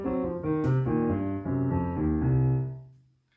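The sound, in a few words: blues piano right-hand lick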